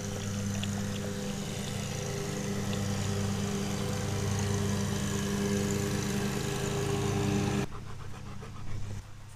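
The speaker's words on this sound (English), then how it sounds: "Sorry for the lawnmower noise." A lawn mower engine runs loud and steady nearby, then cuts off abruptly near the end, leaving quieter background noise.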